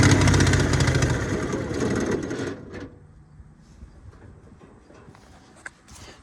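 An old Hydra-Mac 8c skid steer engine cranks and runs loud and rough with the choke on for about two seconds, then cuts out, leaving quiet clatter and faint handling noises.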